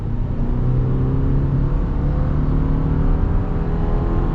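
A 2024 Subaru Impreza pulls away and picks up speed, its engine giving a steady, droning hum with a faintly rising pitch, heard up close from inside the cabin.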